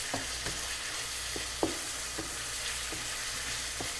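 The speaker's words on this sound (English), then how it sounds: "So I just keep stirring. Keep it from sticking." Cream of chicken butter noodles sizzle in a wok while being stirred, a low steady fry broken by regular soft scrapes and one sharper knock, close and fairly quiet.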